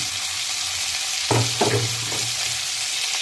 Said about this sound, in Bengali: এখন আমি ভেজে রাখা আলুগুলো দিয়ে দিচ্ছি।